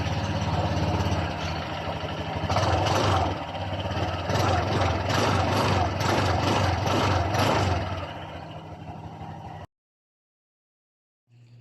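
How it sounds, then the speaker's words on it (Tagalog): A Honda Click 125 motor scooter idles through its muffler, a steady close engine drone with rhythmic rattling bursts lasting several seconds before cutting to silence. "So on natin kanyang susi guys para mapaandar natin ang kanyang motor at siyempre marinig na rin natin ang tunog ng kanyang muffler."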